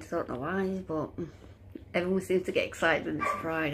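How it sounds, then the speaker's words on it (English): A dog barks and yips faintly in the background, reacting to people outside, partly buried under a person talking close by. "excuse the dog barking in the background because there's some people outside"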